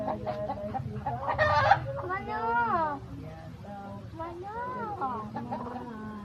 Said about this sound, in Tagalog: Manok yan, manok.